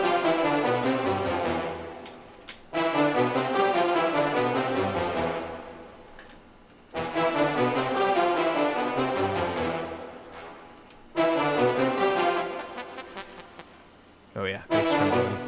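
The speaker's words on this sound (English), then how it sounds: "So if we just grab the brass" An orchestral brass section plays the Star Fox 64 opening theme in loud, sustained chords that stop and restart, forming four sharp-edged phrases separated by brief silences, with a rich, buzzy tone.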